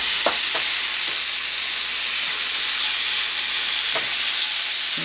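Four thin strips of bacon fry in a pan for a country breakfast, giving a steady, fairly loud sizzle with soft crackle throughout and a few sharp pops standing out near the start and end.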